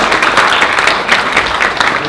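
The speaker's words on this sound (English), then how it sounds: "give yourselves a round of applause" A crowd at a chamber of commerce community event applauds themselves, a continuous, fairly loud patter of many hands clapping with a slightly uneven rhythm throughout.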